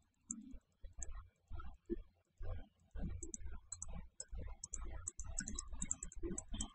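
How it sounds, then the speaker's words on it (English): A loud computer mouse clicks repeatedly during Minecraft play, the quick sharp clicks heard under steady talking nearby. "I'm sorry if you can hear my mouse clicking too"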